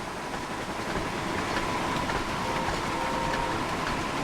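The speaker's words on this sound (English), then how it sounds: "I'm driving a train." A steam locomotive from a Thomas the Tank Engine video game set on Sodor runs steadily, with a continuous rumble, rhythmic wheel clatter and a faint sustained whistle-like tone, and no talking.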